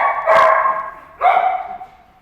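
A rescued dog at an animal shelter gives two loud, close barks about a second apart, each a sharp, whining yelp that trails off, with no talk over them.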